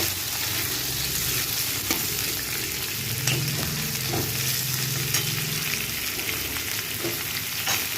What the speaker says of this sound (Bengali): পেঁয়াজগুলো দিয়ে একটু লাল লাল করে নাড়াচাড়া করে নেব,